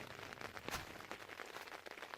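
Rain falling on a tent during an early-morning bike-packing camp, a steady faint hiss with soft scattered patters of drops, continuous and quiet throughout.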